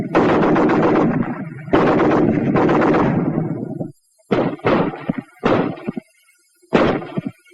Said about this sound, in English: The BAR, 80 shots a minute.